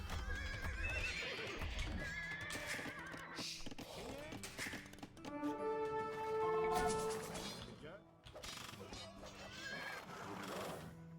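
Mounted paladins' horses whinny repeatedly over clip-clopping hooves amid steady battle clamour in Age of Empires 2, with the neighs rising clearly above the busy game sound throughout.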